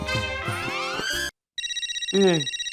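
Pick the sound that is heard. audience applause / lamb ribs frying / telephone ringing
telephone ringing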